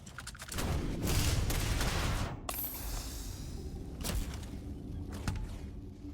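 Enemy gunfire in Starfield's Shattered Space, rapid bursts of shots crackling in a dense run, then scattered single reports and thuds after a short break, fairly quiet overall.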